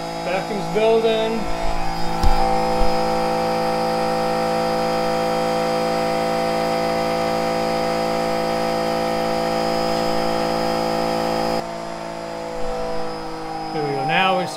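Vacuum pump running at a sugar house, a loud steady mechanical hum with strong tonal whine that drops in level near the end, as a person talks at the start and end.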